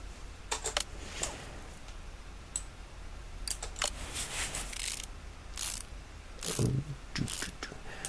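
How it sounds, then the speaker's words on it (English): Rapid ratchet clicks from bolts being tightened in Car Mechanic Simulator 2018 during a Tempest Magnum Sc550 restoration, coming in several short bursts of mechanical clicking across the clip, fairly close and loud. "Just a couple of turns and that's them torqued up."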